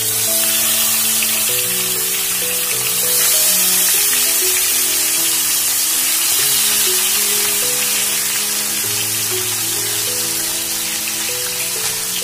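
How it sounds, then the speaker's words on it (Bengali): Fish rubbed with salt and turmeric fries in hot mustard oil, giving a loud, dense, continuous sizzle like heavy rain, with steady music playing underneath. "তেল আমার সম্পূর্ণভাবে গরম হয়ে গেছে, এবার আমি লবণ হলুদ মাখিয়ে রাখা মাছটা দিয়ে দেবো।"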